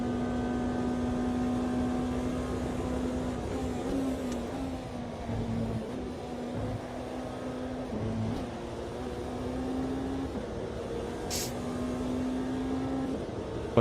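Steady drone of a Porsche race car engine in Automobilista 2, holding a fairly constant pitch with small dips and rises as the car shifts and turns, heard up close without talk.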